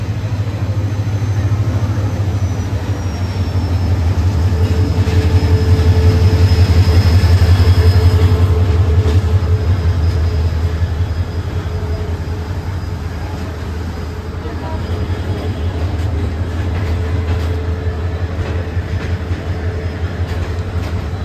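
The Rajshahi Commuter train rolls into line 1 at platform 1 of a station with a deep, continuous rumble that swells and then eases, its wheels clattering steadily. Voices talk over the noise.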